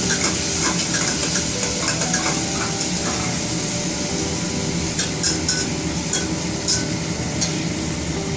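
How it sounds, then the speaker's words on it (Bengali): Two whole onions sizzling steadily in hot oil in a pan while being stirred, a dense continuous frying hiss with scraping stirs throughout, close and loud with no talk. "পেঁয়াজটা ভাজা হচ্ছে।"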